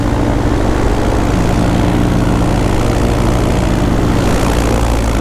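A paramotor's engine and propeller drone loudly and steadily throughout flight, a dense continuous roar with no pauses and no voices, as if heard from the pilot's seat.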